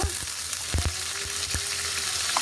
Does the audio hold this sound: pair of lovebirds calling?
no